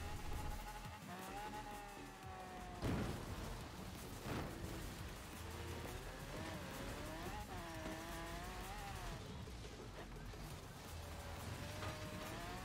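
Off-road vehicle driving in Forza Horizon 4 on a cross-country race course, a steady engine drone rising and falling with gear changes and a few bumps, continuous and loud throughout.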